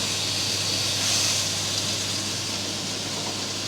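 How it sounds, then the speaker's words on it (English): A 32 oz tomahawk steak searing in a smoking hot pan with a little olive oil, a steady broad hiss that swells briefly then holds even and close, with no voices. "So I'm simply going to put the steak in."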